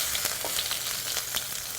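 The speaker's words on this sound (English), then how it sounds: "Now when they start to crackle like this, add your freshly minced green chilies." Cumin seeds crackle and sizzle in hot oil in a pan, a steady dense frying hiss with sharp pops scattered throughout, close and alone.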